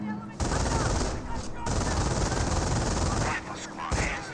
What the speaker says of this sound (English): Rifleman's receiving quite a bit of fire right there